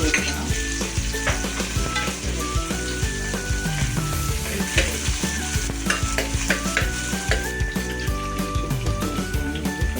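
Sliced onions sizzle steadily in hot oil with mustard seeds already popped, while a spoon scrapes and stirs them around the pan in a continuous close, busy frying sound with no talking.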